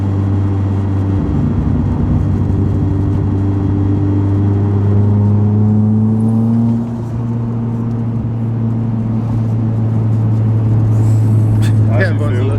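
A Corsa VXR car engine drones and climbs in pitch as it accelerates hard near the red line, heard from inside the vehicle, loud and continuous, then briefly dips as the gear changes.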